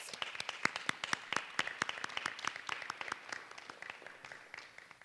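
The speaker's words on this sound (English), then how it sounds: "So give yourselves a round of applause" Audience at an inter-high school debate competition applauding the students, a fairly small group with distinct individual claps that fade gradually toward the end.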